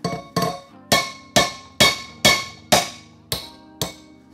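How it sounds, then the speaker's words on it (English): A two-pound hammer strikes a metal piece nine times in a steady rhythm, each blow a loud, ringing clank with a short metallic decay, heard close up with no talking, while a drilled-out piece is knocked free in a machine shop. "Got my 2-pound hammer."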